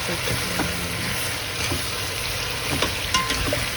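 Duck stew ingredients being stirred and mixed in a hot frying pan, giving a continuous loud hiss and sizzle with intermittent scraping strokes throughout a short stretch.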